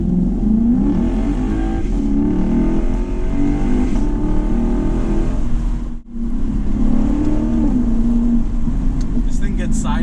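A 2008 Lexus IS F accelerating and sliding sideways on cold roads, a loud sustained engine drone rising in pitch, with someone talking over it.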